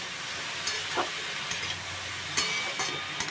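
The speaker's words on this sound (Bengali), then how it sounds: "বাঁধাকপিটা দিয়েছি, এবার একটু সামান্য পরিমাণে লবণ দিলাম আর হলুদ দিয়ে এটা অনেকটাই ভাজা ভাজা করব" Cabbage with salt and turmeric frying in a little oil gives a dense continuous sizzle close by, broken by a few clicks and scrapes of stirring, with no one speaking.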